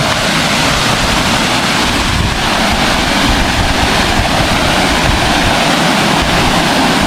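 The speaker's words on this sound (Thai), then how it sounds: "ได้ยินเสียงน้ำ อ๋อ เป็นเหมือนฝายฝายกั้นน้ำอะไรเงี้ย" Water pours over a small weir at a free riverside fishing and camping spot near Phitsanulok, Thailand, making a loud, unbroken rushing roar close by.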